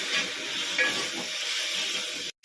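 Tomatoes frying with browned onions in a pan for banana stem gojju give a steady, close, dense sizzle with stirring throughout, then cut off abruptly into a brief silence near the end.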